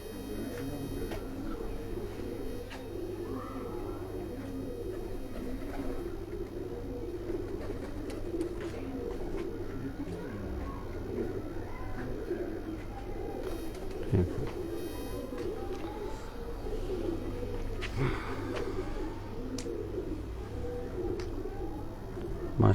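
A group of Kasuri pigeons at a loft in Havelian keeps up a long, continuous chorus of low cooing, overlapping murmurs near the listener over a steady hum, with occasional faint clicks and no voices.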